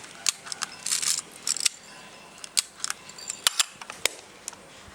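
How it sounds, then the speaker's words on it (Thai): A Yashica Electro 35 film camera fires its shutter repeatedly, sharp mechanical clicks scattered irregularly and close up, with a few short rattling bursts between them. "ชัตเตอร์ทำงานนะครับ"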